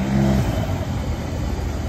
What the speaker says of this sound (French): Regardez la Porsche qui arrive juste